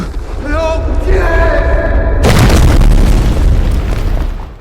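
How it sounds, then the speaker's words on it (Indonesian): A cannon fires with a sudden loud blast that cuts in midway, followed by a long, rumbling roar of the explosion, after a stretch of tonal, voice-like sound. "berkat Zhang He, mereka berdua bisa menghindar dari meriam itu."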